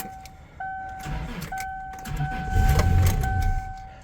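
Starter of a 2001 Subaru Outback cranking in a few short bursts as the key is bumped, close by, with a faint electronic chime ringing and no speech.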